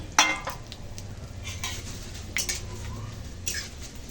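Dry red chilies, bay leaf and five-spice seeds tempering in hot oil, a light crackle and faint sizzle with a few sharp metallic clinks of a spoon on the pan.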